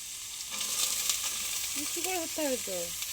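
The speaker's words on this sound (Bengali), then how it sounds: "এবার কিন্তু গোটা লঙ্কা দিয়ে দেওয়া হচ্ছে আর কড়াই দিয়ে কড়কড় করা হবে কড়কড় করে আওয়াজ করা হচ্ছে" Whole chillies crackle in hot oil in a kadai, a steady close-up sizzle, with a few short tonal, voice-like sounds rising over it toward the end.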